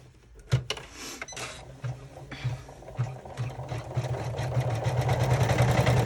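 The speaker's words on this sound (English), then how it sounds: "we're going to go ahead and do our tack down. I'm sorry, our top stitch" A sewing machine runs a top stitch through fabric while a zippered credit card slot pocket add-on is assembled, producing a steady mechanical whir with a clear rhythmic stitching pulse that speeds up and grows louder toward the end.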